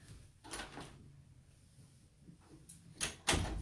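A house door bumps and clacks shut in several sharp knocks and thuds as a dog is put outside, set against a quiet indoor room with no voices.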